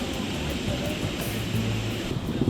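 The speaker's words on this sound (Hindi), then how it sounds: "Look at that, a small little waterfall, but it's flowing in its full glory." Small rain-fed waterfall in the Coorg forest, a continuous soft rush of flowing water heard at moderate distance, with faint low rumbles and a few knocks mixed in.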